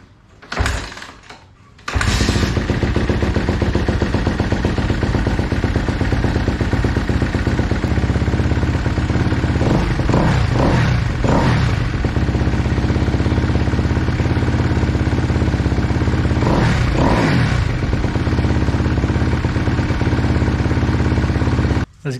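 After a couple of short thumps, a 2014 Kawasaki KX250F dirt bike's freshly valve-adjusted engine fires up and runs loudly and steadily close by, with a few throttle blips partway through.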